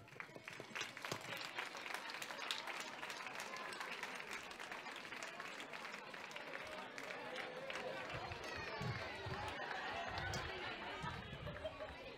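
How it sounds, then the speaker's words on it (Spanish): A large audience at a school end-of-year festival applauds steadily for the whole stretch, dense and loud, with crowd noise and a few voices mixed in. "Un fuerte aplauso para ellos."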